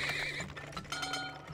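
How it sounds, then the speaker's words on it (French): Horse neighs and whinnies in the Turmoil oil-drilling game right after horses are bought, with hoof clip-clops mixed in, close and clear over steady game background sound for about a second and a half. "Acheter les chevaux."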